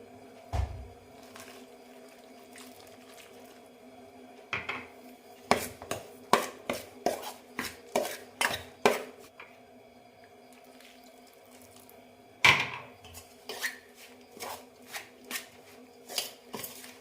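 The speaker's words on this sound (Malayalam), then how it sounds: "ഇനി തിളച്ച വെള്ളമൊഴിച്ച് കുഴയ്ക്കാം" Wet, squelching sounds of wheat flour dough being hand-kneaded with boiling water for idiyappam come in a quick rhythmic series of soft slaps, with a pause and then more kneading, over a quiet steady hum.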